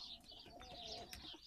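Pigeons coo outdoors, soft low throaty calls rolling close by over a faint background of wind and a few thin chirps.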